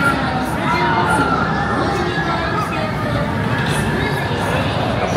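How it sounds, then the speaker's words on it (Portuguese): A large crowd at Universal Studios Japan during Halloween gives off a dense, steady roar of shouting and excited chatter, loud and fairly close throughout. "Dá pra ver a galera gritando daqui, ó."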